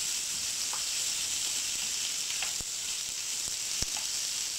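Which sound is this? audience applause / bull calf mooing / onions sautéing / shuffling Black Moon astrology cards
onions sautéing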